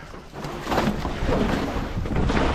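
A strong windstorm roars outdoors, heavy rumbling gusts buffet the microphone in a constant loud wash that swells after the first half second.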